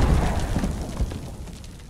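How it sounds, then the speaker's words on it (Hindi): A deep boom from a bomb going off in a video game about a poison gas attack, one loud low blast that rumbles and fades over two seconds. "रुक रुक बम मारते हैं"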